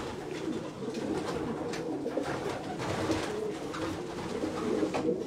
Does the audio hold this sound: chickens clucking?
no